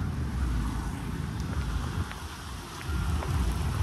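Outdoor rain pours down steadily during a wet DJ setup, a dense broadband wash of falling water with low rumble, continuous and fairly loud, no one speaking.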